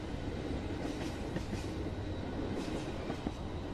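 A train in a video game rolls along a railroad with a steady rumbling clatter and faint rhythmic clickety-clack, continuous and moderately loud, with no talking.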